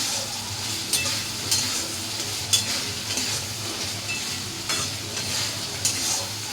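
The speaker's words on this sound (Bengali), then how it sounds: "এগুলোকেও ভালো করে আমি গ্রেভিটার সাথে একটুখানি কষিয়ে নেবো কড়াইশুটিগুলোকে" Green peas being fried and stirred in gravy in a wok, with a low steady sizzle broken by a few sharp scraping strokes of the spoon, close and alone with no talk.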